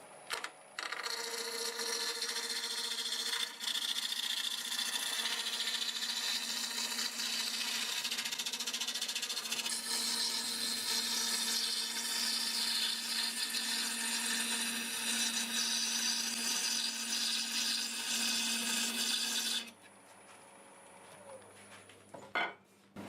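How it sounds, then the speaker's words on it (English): A 1/2 inch bowl gouge cutting wood on a lathe spinning around 800 RPM, a steady, loud, high-pitched whirring shear that holds for about twenty seconds before stopping abruptly and leaving the motor hum. "I'm going to use a 1/2 inch bowl gouge, and it looks like you can do about 800 RPM easy enough."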